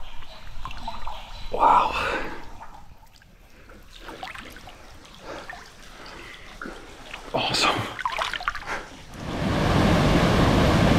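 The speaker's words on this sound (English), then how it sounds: "Yet another waterfall that can swim in." Water rushes and splashes where a waterfall pours into a swimmable pool in Samoa, close and uneven, swelling to a loud steady roar at the end, with a voice briefly exclaiming over it.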